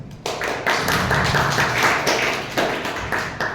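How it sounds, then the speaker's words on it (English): Clapping from an audience at a Toastmasters club meeting, a dense burst of hand claps kept up for several seconds at steady loudness with no talk over it. "Please welcome her with a round of applause."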